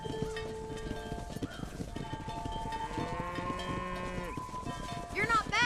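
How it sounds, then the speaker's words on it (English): A cattle herd and horses driven across the range in Red Dead Redemption, with lowing cows and clip-clopping hooves mixed together under shouted cowboy calls and game music. "Keep that herd together now."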